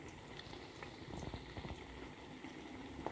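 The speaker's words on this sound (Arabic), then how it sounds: "في الزيت تقليها على طول" Battered cauliflower dropped into hot oil bubbles and fries with a soft, steady crackle, fairly quiet and close, with no voices.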